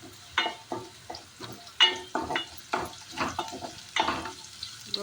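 Vadagam tempering in oil over a low flame, soft sizzling broken by short scraping stirs in an irregular rhythm, close by and moderately loud, with no voices.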